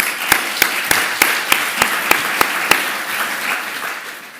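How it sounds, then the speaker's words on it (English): A conference audience in Geneva breaks into applause, with a few sharp, loud claps at the start that give way to a softer, steady patter. "Merci de l'applaudir."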